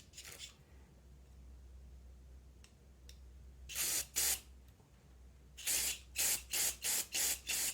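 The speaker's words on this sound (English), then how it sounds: "let me just give it a little more spray and we'll call it good" Carburetor cleaner sprayed from an aerosol can into the emulsion tube holes of a small engine carburetor, one early burst, then a couple of longer sprays and a rapid run of short hissing blasts, close and loud with no talk.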